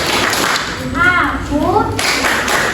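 Primary school pupils in a classroom play a clapping concentration game, sharp claps coming in short rhythmic bursts mixed with loud voices of children and a teacher.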